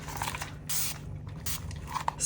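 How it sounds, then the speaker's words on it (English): Several short hissing bursts of alcohol sprayed from a spray bottle onto freshly poured epoxy resin to pop surface bubbles, close and fairly quiet, with brief gaps between the squirts. "spray it with alcohol, pop the bubbles"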